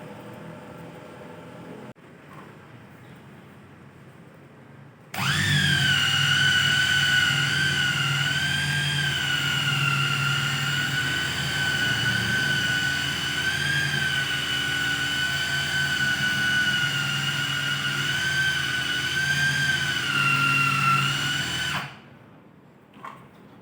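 Scratched window glass on a Honda Accord is sanded with a power tool that runs as a steady high-pitched whine for about sixteen seconds, starting abruptly and then cutting off. There is no talk over it.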